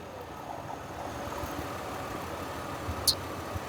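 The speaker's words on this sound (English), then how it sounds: "Let it idle for a minute." A Chevy Impala engine idles steadily at a low, even rumble, recorded close, with a brief sharp tick near the end and no talk.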